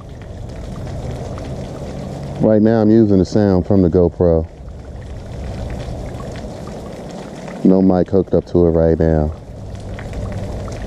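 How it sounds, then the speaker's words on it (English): Water rolls over a small spillway as a constant rushing wash recorded through a GoPro's built-in microphone, heard throughout under someone talking close to the camera. "I'm sure you can hear that water rolling in the background."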